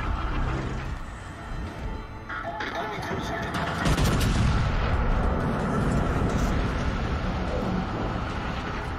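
Heavy naval gunfire from many ships pounds a battleship in World of Warships Legends, a dense continuous barrage of booms and rumbling impacts that swells louder midway, with a voice talking over it at times.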